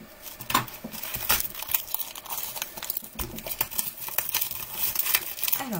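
Paper craft kit packaging crinkles and rustles close up as the box is opened, with sharp crackling bursts, tearing sounds and irregular handling noises from start to finish.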